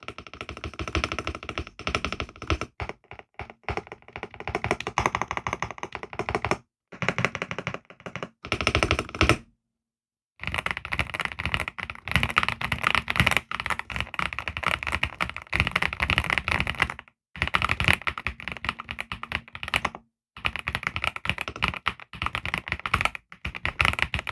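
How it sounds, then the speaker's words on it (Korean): Rapid clacky typing on a mechanical gaming keyboard, close and continuous, broken by a few brief pauses, with no voices. "이 키보드 같은 경우는 약간 조약돌 소리라고 하죠."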